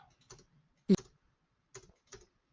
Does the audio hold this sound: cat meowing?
no